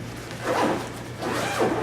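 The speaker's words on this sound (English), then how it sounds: "This padded pouch here, let's see if I can find the zipper" A zipper on the padded pouch of an Arc'teryx LEAF pack rasps open in two close, quick pulls, each a short rising zip, with no speech over it.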